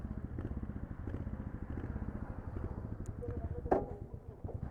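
Motorcycle running on local fuel with a spark plug problem, struggling to start: a faint, uneven putter of rapid low pulses, with a brief sharp clatter partway through and no voices.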